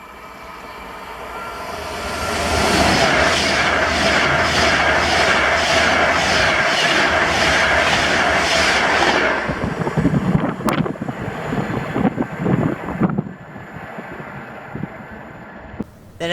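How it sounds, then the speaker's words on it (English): Virgin Class 390 Pendolino, unit 390124, on the Birmingham New Street to Glasgow Central service, passing Carluke: a loud, sustained rushing roar with wind buffeting the microphone, then an abrupt drop to quieter rumbles and clatter as it clears. "this is 1S39, the 1053 Virgin train service to Glasgow Central from Birmingham New Street"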